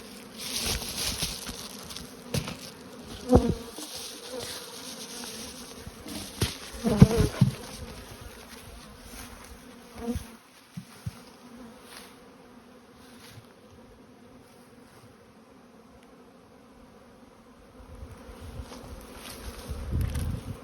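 Honey bees buzz steadily around an open hive's brood nest, a dense continuous drone with occasional louder passes and soft handling knocks, close and alone without voices.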